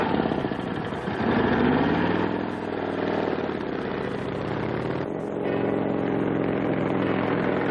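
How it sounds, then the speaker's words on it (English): A motorcycle engine in an old theatrical film drones steadily at moderate volume, a continuous mid-pitched hum that swells slightly as it approaches, with no talk over it. "Sounds like a motorcycle coming."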